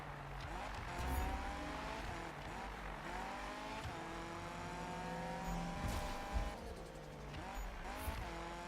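Mazda MX-5 in the Need for Speed (2015) game, engine droning and shifting pitch through a drift with tire squeal, steady and close, with a voice talking over parts of it.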